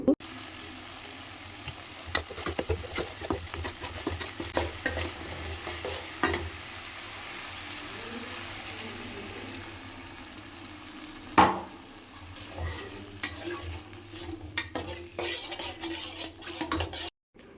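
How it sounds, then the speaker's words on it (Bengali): A ginger, tomato, chili and cumin masala fries in a hot kadai, with a steady sizzle broken by sharp scrapes and clinks of a stirring spoon against the metal pan. "কড়াইটা গরম হয়ে গেছে দেখতেই পাচ্ছি তো এতে আমি মশলাটা দিয়ে ভালো করে কষিয়ে নেব"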